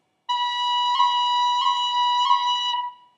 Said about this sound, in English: Now let's do a B pip.